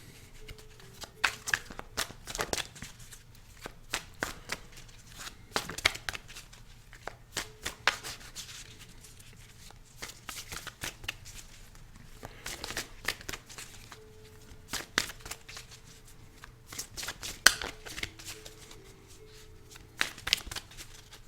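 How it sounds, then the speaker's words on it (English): Soft, repeated riffling and rubbing of tarot cards being shuffled by hand, in short bursts with pauses between, close and quiet. "give these a little bit of a shuffle."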